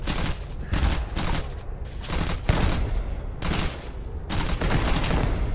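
An AK mod rifle in Starfield fires in repeated bursts, each a tight cluster of loud, close shots separated by brief gaps, over roughly half a dozen volleys.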